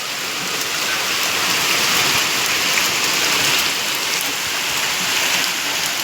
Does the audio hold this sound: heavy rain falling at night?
yes